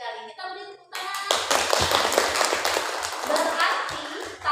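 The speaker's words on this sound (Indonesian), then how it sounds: "Kita beri tepuk tangan." A class of students breaks into hand clapping after a short tone, the claps dense and lively for several seconds, with children's voices mixed in.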